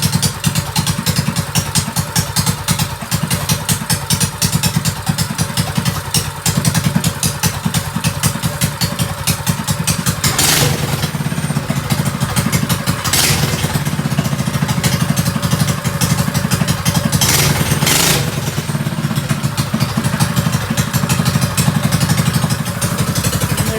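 A freshly built mini bike's small engine starts and runs loud and close, with a rough, clattering idle and a few revs and thumps throughout.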